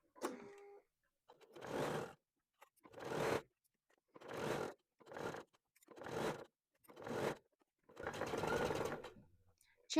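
A sewing machine stitches a skirt around a curve in seven short, close bursts, each about half a second to a second long. The bursts come with brief pauses between them, and the last run is the longest.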